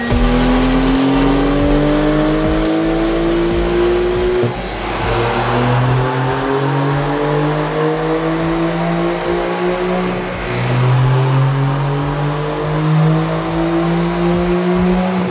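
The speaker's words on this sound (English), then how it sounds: "let's dyno it and see what kind of numbers we can put down" A Porsche 992 Carrera running an APR Stage 1 tune on 93 octane climbs through the gears on a dyno, its loud engine note rising in repeated sweeping pulls with brief dips between shifts.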